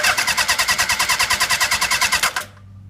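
A 1975 Honda CB750 K5 motorcycle engine cranks on a new starter motor in a fast, even chug of about twenty close, loud pulses over two and a half seconds, then stops abruptly without firing.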